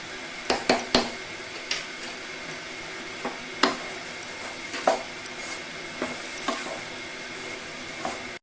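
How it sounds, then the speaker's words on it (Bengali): Vegetable khichuri ingredients frying in ghee with cumin powder: a steady sizzling hiss under repeated sharp spatula knocks and scrapes against the pot, close and moderately loud. "ভালো করে আমি ভেজে নেব। 1 চামচ ঘি দিয়ে দেব।"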